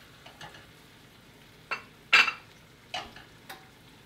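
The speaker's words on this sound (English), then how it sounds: "we're going to add 5 tablespoons of a gluten-free type of flour. I'm using actually an all-purpose baking mix here. And I'm going to start whisking that in." A wire whisk works gluten-free all-purpose baking mix into a pan for mac and cheese, giving a few sparse, soft clinks and scrapes against the metal with quiet gaps between them.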